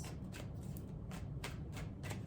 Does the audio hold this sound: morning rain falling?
no